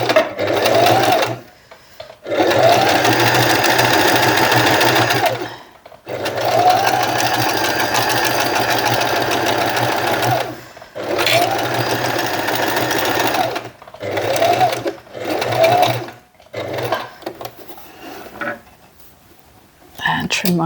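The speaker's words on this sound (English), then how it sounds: "Just going to do a back stitch." A sewing machine stitches a tote bag and finishes with a back stitch: rapid mechanical whirring runs in several bursts separated by brief silent pauses, with a voice speaking at times.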